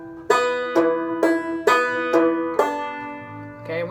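A solo instrument plays a rhythmic line of six sharply attacked notes with slides, evenly spaced, followed by a softer trailing note, close and alone with no talking.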